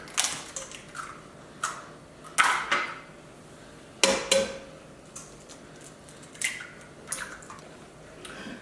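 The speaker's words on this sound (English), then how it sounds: "we're just gonna break them up directly in the pot in our wok." Eggs are broken up in a wok for cauliflower fried rice, giving sharp scattered clinks and scrapes of a utensil against the pan over a quiet sizzle.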